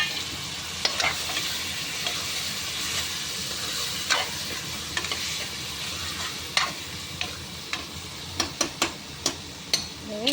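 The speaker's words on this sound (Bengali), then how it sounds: "মশলাটা আমি নেড়ে নিলাম।" Spice masala being stirred in a pan while cooking palak paneer, a spatula scraping and tapping in scattered strokes over a low, steady fry, with sharper clicks bunching toward the end.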